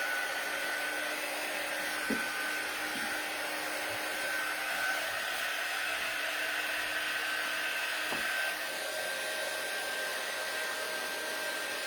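A hair dryer blowing to dry a coat of paint on a winter shelf-sitter craft piece, a steady airy whine running evenly and close throughout, with a couple of faint clicks.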